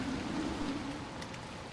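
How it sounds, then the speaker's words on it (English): Rain falls in the video game Dying Light The Beast, a steady, soft hiss of patter with a faint low hum beneath it and no voices. "It's raining indoors again."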